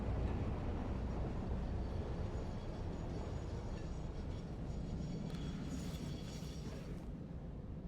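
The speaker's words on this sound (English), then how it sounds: "the train starts to accelerate out of the station" A train in the factory-building game Satisfactory pulls out of a station and speeds up, a dense continuous low rumble and roar that holds steady with a faint hiss in the upper range.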